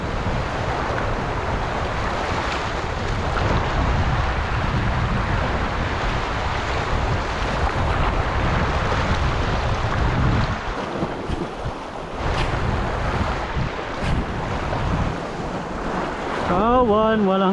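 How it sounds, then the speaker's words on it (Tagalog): Strong sea waves surge and crash continuously near a small boat on open water, with heavy wind buffeting the microphone throughout and brief faint voices near the end. "So lumalakas yung alon."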